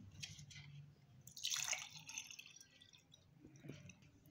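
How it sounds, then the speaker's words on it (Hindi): Plain water poured from above into a glass, a short splashing trickle rising in the middle of the clip and then a few faint drips, heard close and quiet. "एक यानी कि गिलास में मैं इस तरह से सादा पानी डालती हूँ।"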